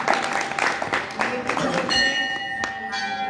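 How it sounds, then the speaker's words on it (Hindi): An audience at a spiritual question-and-answer gathering claps in a short burst of applause, which fades into ringing, bell-like tones and background voices. "ताली बजाओ जी"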